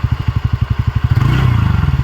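A TVS Ntorq 125 scooter's engine thumps at a steady idle, then revs up into a faster, denser burble; loud and close, with no voices.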